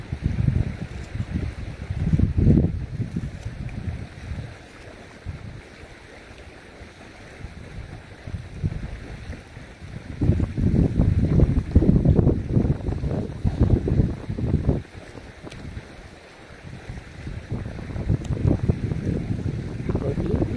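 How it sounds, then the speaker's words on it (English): Wind blows outdoors in strong gusts that rise and fall, rumbling hard against the microphone, with quieter lulls between surges. "That wind, it's still there."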